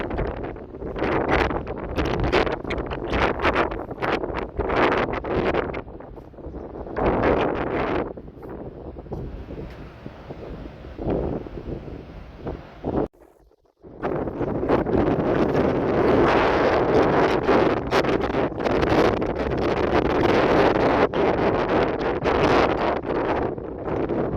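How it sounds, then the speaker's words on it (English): Strong wind on an Anglesey coastal beach path in Wales buffets the microphone in loud, continuous roaring gusts, with a brief lull midway before the blustery rush returns at full force. "still very, very windy"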